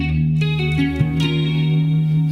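Simulated Leslie rotating speaker effect from a Line 6 Helix on a sustained organ-like chord, warbling and swirling with a few note changes, loud and continuous.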